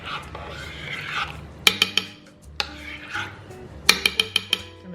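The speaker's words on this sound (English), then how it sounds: "Just give it a good stir." Beef and broccoli stirred in a crockpot, a spoon scraping around the pot followed by bursts of ringing clanks and taps against the ceramic rim, close and loud.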